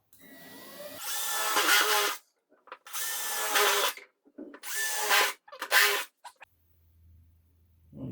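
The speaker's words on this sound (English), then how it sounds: "I'm going to try to see if I can get in here and drill some holes and put some rib nuts in." A power drill bores holes for rivet nuts in four loud, close bursts of whining drilling separated by short pauses, ending in near silence with a faint low hum.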